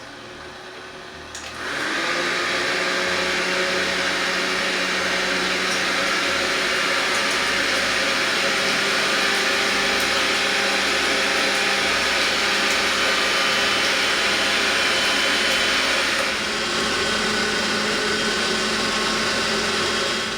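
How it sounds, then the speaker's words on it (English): An electric mixer whipping egg whites switches on and runs as a loud, steady whir for about fifteen seconds, then winds down to a lower hum near the end. "I'm going to turn on the mixer now to do the whites"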